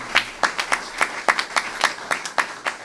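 Sparse, separate hand claps at a symposium, roughly a dozen sharp claps spaced unevenly over a few seconds, fairly close and moderately loud, with no talking.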